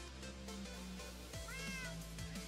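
A cat meows in modded Minecraft, a single drawn-out mew rising and falling over a steady low background hum, close and clear.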